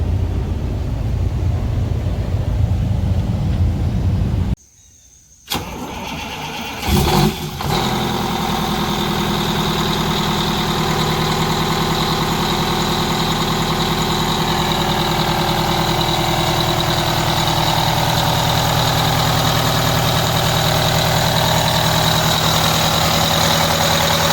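A Wanderlodge bus's large diesel engine idles with a steady low rumble and hum, after a brief gap and a few clunks near the start.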